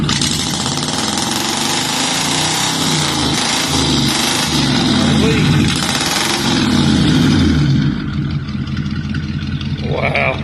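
A cold 1951 Mercury flathead V8 with headers, shaved heads and a cam idles close by, a loud lumpy rumble that pulses unevenly and holds steady, easing slightly toward the end.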